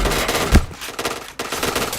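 Rapid gunfire in the online shooter Point Blank: loud, close bursts of shots cut by a brief silent gap, then another sustained volley.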